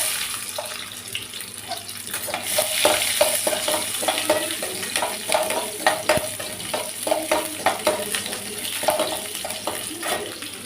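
A handful of small onions dropped into frying chana dal, a wet close sizzle with a run of rhythmic stirring scrapes and clatters that carries on steadily.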